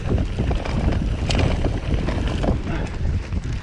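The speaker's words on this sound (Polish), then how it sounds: "ale jest wiatr" Steady wind buffeting a microphone outdoors on a mountain bike trail, a loud continuous rumble with gusty swells throughout.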